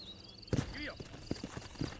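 Horse hooves in the Red Dead Redemption video game on PC: a few heavy, close thuds at an easy walking pace, with a brief voiced sound between the steps.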